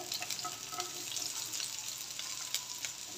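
Green chillies and sliced onion fry over high heat in a pan with ginger and garlic, giving a steady close sizzle with faint crackles and stirring sounds throughout.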